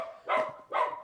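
A human voice imitates a small, noisy dog on a narrow town street. Two short, sharp yaps come close together, close up and moderately loud.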